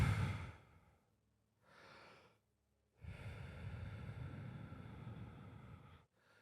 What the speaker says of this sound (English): If you take long, deep breaths out,